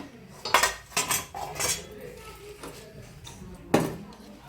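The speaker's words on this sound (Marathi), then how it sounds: "आता आपण गवार तव्यातून आता एका ताटामध्ये काढत आहोत" Roasted cluster beans are scraped from an iron griddle onto a metal plate, giving a few sharp metallic clinks and scrapes spaced out over a quiet kitchen background.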